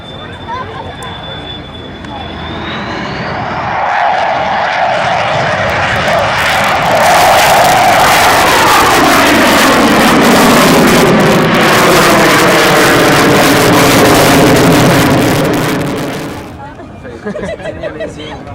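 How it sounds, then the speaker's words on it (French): At the Bex 2007 air show, a jet throttles up with afterburner lit: a roar swells over several seconds into a loud, sustained, ripping blast, then falls away, with crowd murmur and announcer commentary underneath. "On a mis le gaz avec allumage des réchauffes"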